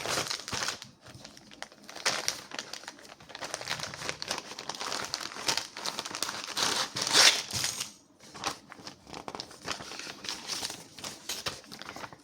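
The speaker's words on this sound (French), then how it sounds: "Bah, c'est parti, on va la déballer." A plastic-wrapped embroidery kit package being unwrapped close up, with continuous crinkling and rustling of plastic in irregular bursts and a short pause partway through.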